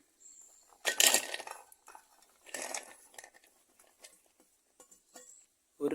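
Cut jackfruit seeds drop into a pot in a few close, clattering bursts, the first loudest, followed by softer scattered knocks and rattles in near silence.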